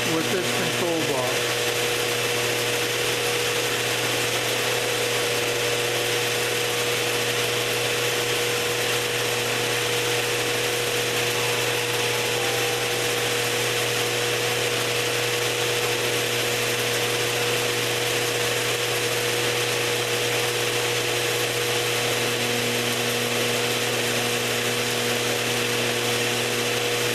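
A CNC mill drill cuts pie-shaped segments with a steady, continuous whine and grinding hum that stays nearly unchanged for close to half a minute, loud and close with no pauses.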